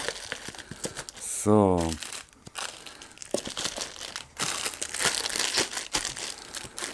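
Plastic packaging crinkles and rustles as items are unpacked from a box, in irregular close bursts with a short tonal beep midway, while a person speaks briefly.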